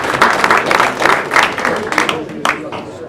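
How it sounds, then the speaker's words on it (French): A room of spectators at an amateur football club's official team presentation applauds the reserve goalkeeper, steady clapping from many hands lasting a few seconds with a voice faintly present underneath. "mais on peut l'applaudir"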